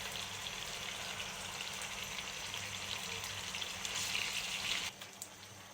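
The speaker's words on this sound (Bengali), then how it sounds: "মাছ ভেজে নেব।" Pieces of rohu fish coated in turmeric and salt fry in hot oil in a pan with a steady, close hissing sizzle that drops off abruptly near the end.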